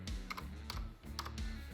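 Quick keyboard typing, a handful of close, crisp key clicks in irregular bursts, with no voices.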